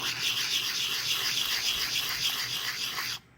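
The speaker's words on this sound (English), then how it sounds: "as I use the sandpaper, my goal is to remove the scratches that the coarser sandpaper left" Fine-grit sandpaper rubs a copper pipe ring in quick steady back-and-forth strokes, a close, bright scratchy rasp that stops abruptly just before the end.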